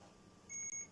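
A malfunctioning Coast Call alarm gives a short burst of high electronic beeps with a brief gap, following a quiet stretch.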